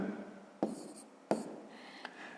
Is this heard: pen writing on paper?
yes